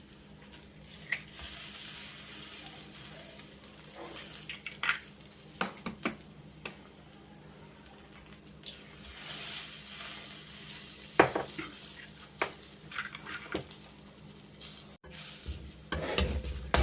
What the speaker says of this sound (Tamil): இப்போ முட்டையை ஊற்றி நல்லா கிளறி இப்படி எடுத்துக்கணும்